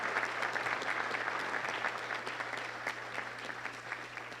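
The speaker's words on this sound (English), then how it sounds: "Another round of applause." Banquet guests at a scholarship fund dinner keep up a sustained round of applause, dense and even throughout, with a low steady hum beneath it.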